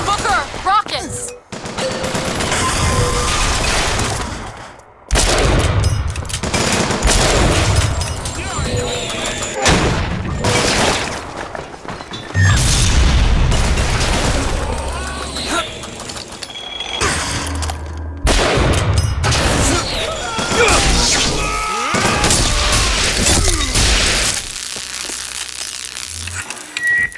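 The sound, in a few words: turret gunfire and rockets in BioShock Infinite video game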